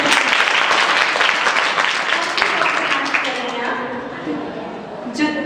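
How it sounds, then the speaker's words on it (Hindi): A school audience applauds a dancer at a talent hunt contest, a loud, dense burst of clapping that fades toward the end before a brief sharp rise. "एक जोरदार ताली तो बन।"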